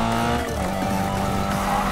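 Car tires squeal and skid through a drift in a street-racing video game, a steady engine roar underneath with a sliding, rising tire whine, loud and close, no talking.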